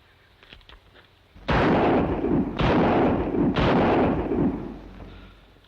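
A revolver fires three loud, close booming shots about a second apart, each with a heavy rolling echo that fades at the end.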